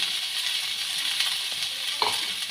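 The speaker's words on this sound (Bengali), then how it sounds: "খুব ভালো করে নেড়ে নেব" Chopped onions and green chillies frying in a pan for chicken rolls, giving a steady bright sizzle with a couple of brief stirring knocks, close and alone.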